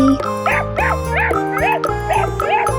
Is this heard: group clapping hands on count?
no